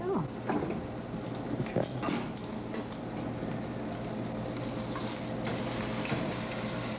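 Meat searing in a hot pan gives a steady, dense sizzle close by, with occasional scrapes of stirring and a brief word spoken over it.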